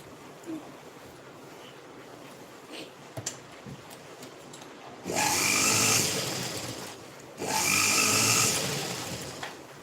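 A sewing machine top-stitches fabric, two loud whirring runs of steady stitching, each a few seconds long, separated by a short pause after a quiet stretch with faint handling clicks.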